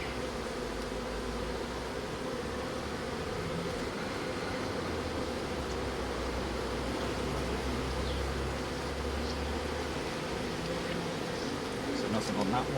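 Honeybees buzzing around an opened nuc hive, a low, continuous droning hum close by, steady throughout with a faint hiss of background noise and a slight swell near the end.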